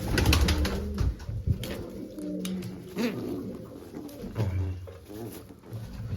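Domestic pigeons coo repeatedly in a loft with fresh broods, low rolling calls overlapping near and far over a steady background hum.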